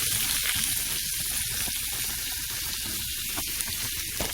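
Zucchini fries in a pan as crumbles are tossed in, giving a steady sizzle with dense crackling and bubbling at close range, with no voices.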